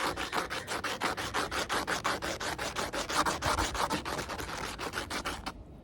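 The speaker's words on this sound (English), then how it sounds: "it's time that we go from 60 grit sandpaper to 1 grit" Rapid, rhythmic back-and-forth rasping of 60 grit sandpaper over a concrete fingerboard obstacle, loud and close, strokes evenly spaced until it stops abruptly near the end.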